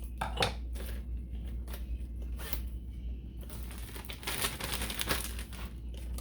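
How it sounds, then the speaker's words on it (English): A plastic freezer bag is handled and its corner snipped off for piping cherry pie filling, with crinkling plastic and a few quick cutting snips over a steady low hum. "So I have a freezer bag, and we're gonna cut the corner of it out."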